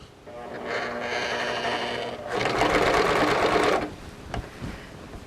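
A sewing machine stitches a seam on a princess-seamed western show jacket, running in a steady whirring hum that speeds up into a louder, faster burst before stopping, with a few small clicks after.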